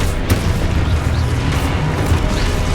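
Confringo fire-blast spell cast in Hogwarts Legacy on PS5, a dull booming burst set against a steady dense game rumble, with a sharp onset near the start and a second swell later in the short stretch.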